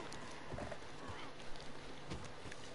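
Horse galloping in Red Dead Online, with quiet, scattered hoofbeats under a busy, noisy game mix that also has other sounds in it.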